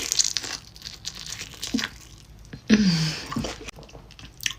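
Someone chews a mouthful of buttery cheese and Marmite up close, producing soft wet smacking with occasional crinkly crunches, quiet and intermittent with small breathy sounds in between.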